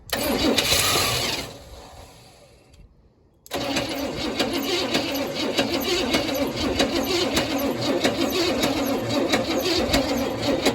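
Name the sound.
1966 Cadillac Deville engine cranking to start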